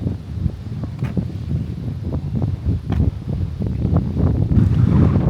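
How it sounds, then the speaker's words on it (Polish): Strong wind buffets the microphone in a continuous, loud, low roar, with gusts rising and falling throughout and no voices. "Wiatr niesamowity."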